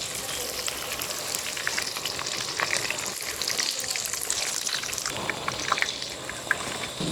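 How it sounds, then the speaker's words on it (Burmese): Pieces of meat frying in oil in a pan, a continuous bubbling sizzle with scattered crackles and pops, close by and moderately loud, with no talk. "ကဲအခုကတော့အသားတူကြော်မှာပေါ့နော်"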